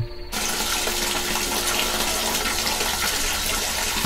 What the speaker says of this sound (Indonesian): suara air mengalir keras sekali terdengar